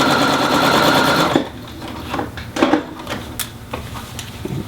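A sewing machine stitches steadily around a gentle curve in fabric, a loud close whirring run that stops after about a second and a half, followed by soft handling clicks and rustles.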